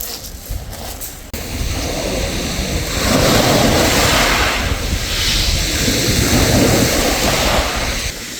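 Surf washes onto a clean pebbly beach near the ancient city of Olympos, a loud, steady roar that swells around the middle, mixed with wind, no voices.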